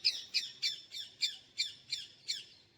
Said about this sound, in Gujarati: આ પોપટ બોલે છે ખજૂરી ઉપર